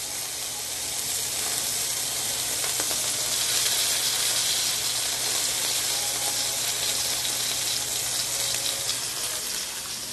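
Steak sears in a hot pan with rosemary and garlic, giving a steady, loud hiss of fat and juices that carries on evenly throughout with no voices.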